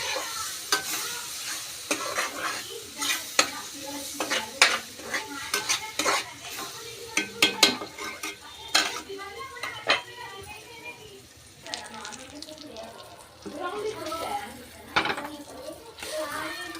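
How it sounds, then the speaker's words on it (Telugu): Eggs being stirred into rice in a hot pan: a close, steady sizzle with repeated scraping and tapping of a spoon against the pan, in irregular bursts with a few brief pauses. "ఇప్పుడు కలపాలి."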